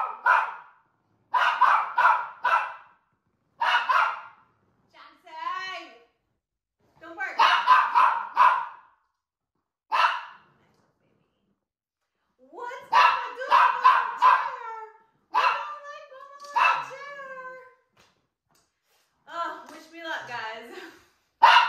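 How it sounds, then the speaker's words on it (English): A dog barks and yips indoors in repeated short bursts with quiet gaps between them, some sharp and some whining, fairly loud and close over about twenty seconds. "Don't bark. Don't bark at the"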